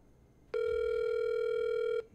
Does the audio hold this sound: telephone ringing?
yes